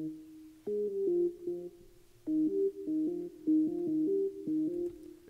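A layered, heavily edited synth patch modeled on a song's synth plays a quiet sequence of stepped chord notes in short phrases with brief gaps, alone with no voices.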